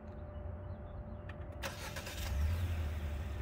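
A Hyundai Sonata engine remote starting: a faint click, then a brief cranking burst as the motor catches and settles into a low idle.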